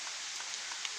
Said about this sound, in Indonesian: Ini cuaca dari kemarin terus hujan terus ya, diguyur nih.